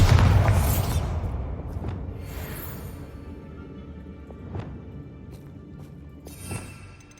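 A Bombarda spell explosion in the video game Hogwarts Legacy: a loud booming blast at the start that decays into a long rumbling tail, followed by a few fainter thuds.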